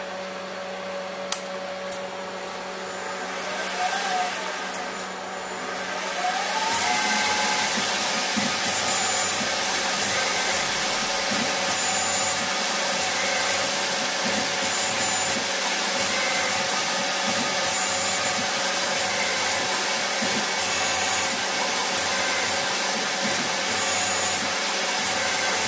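A CNC machine runs Mach3 threading code, giving a continuous loud grinding, whirring drone with a steady rubbing texture throughout and no talking.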